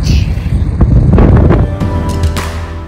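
Strong wind buffets the microphone in loud, steady low rumbles on an overcast beach near Miami, with a brief faint voice mixed in.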